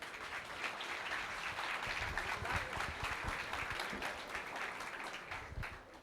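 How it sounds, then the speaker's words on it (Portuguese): Conference audience at SITREC 2026 applauds a speaker, an even wash of many hands clapping at moderate distance, sustained for several seconds before thinning slightly at the end. "Palmas para o Manuel Robalinho."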